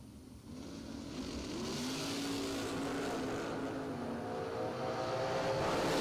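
Drag race cars launching down the lanes at a racing event, a steady distant engine roar that builds and sustains, heard from afar without talk.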